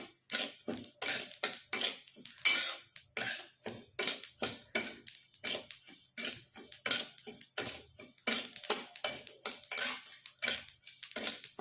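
Quinoa is stirred continuously while dry-roasting in a pan, giving a rapid series of scraping, rattling strokes of spoon against metal with the grains rustling between them; no voices.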